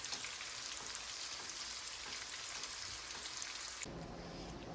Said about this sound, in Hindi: अभी फ़िश फ्राई हो रही है